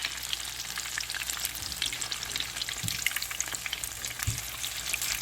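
Shrimp tempura frying in hot oil, a close, steady crackling sizzle with a few soft low bumps underneath.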